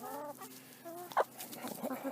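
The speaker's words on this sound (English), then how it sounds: "This is my rooster." A rooster on a small farm gives several short clucks and throaty calls up close, with brief pauses and a sharper squawk midway.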